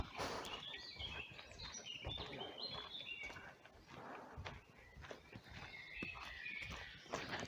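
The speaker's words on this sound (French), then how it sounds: "Le chant des oiseaux." Faint bird chirps and calls scattered over an outdoor background in the Vosges, with occasional soft footsteps or pony hoof clops nearby.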